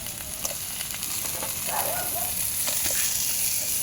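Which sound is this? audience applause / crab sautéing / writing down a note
crab sautéing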